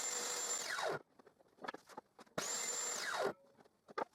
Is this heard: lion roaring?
no